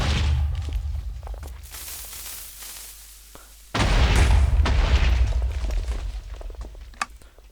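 A loud, booming video game dynamite explosion erupts midway, cutting in abruptly over a quieter rumbling background and then rolling on with a dense, sustained roar.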